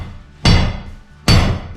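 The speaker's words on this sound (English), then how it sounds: "you use the hammer to hit that right there" Two heavy, loud hammer blows land on a pry bar during house demolition, evenly spaced about a second apart, each a sharp metallic strike followed by a ringing decay, with no talking over them.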